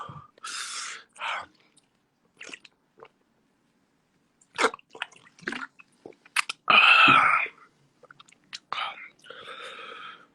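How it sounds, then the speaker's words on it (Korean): Someone eats close to the mic during a casual live stream, making wet, smacking chewing bursts in irregular clusters, loud and intimate, with occasional breathy whisper-like sounds between them. "일단 전 쩝쩝충이었네"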